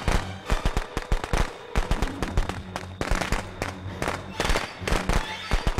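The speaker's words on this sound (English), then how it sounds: "Did he just throw firecrackers on me?" Firecrackers thrown in the video game Friday the 13th go off in rapid, irregular bursts of sharp cracks and pops, loud and close, crackling on and off across the whole stretch.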